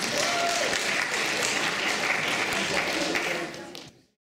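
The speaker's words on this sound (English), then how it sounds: "So give yourselves a round of applause as well." An audience at a talent show applauds itself, sustained broadband clapping that holds steady and then cuts off abruptly near the end.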